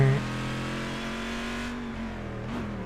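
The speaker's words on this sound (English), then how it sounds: "when a big scary American muscle car just goes" An American muscle car engine in the Gran Turismo racing game holds a steady, loud rumbling rev with a slight rise near the end, heard alone at close range.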